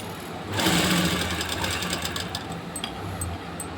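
A sewing machine runs steadily while stitching a four-tuck blouse with a belt, its motor starting after a brief quiet moment and continuing as an even, close whirring hum.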